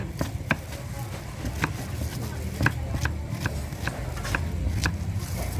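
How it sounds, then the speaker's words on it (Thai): Sharp knife chops through shallots on a board in an uneven run, close by, over a low background hum. "หั่นหอมเข้าไปทีนี้ หั่นหั่นหั่นหั่น"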